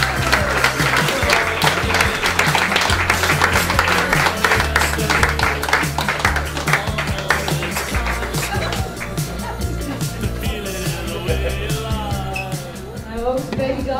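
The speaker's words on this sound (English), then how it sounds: "Please give a big round of applause for Sally McKim." Sustained applause from an audience at a tennis championship finals day honouring the ladies singles champion, dense and loud for the whole stretch, with a few claps standing out as it thins near the end.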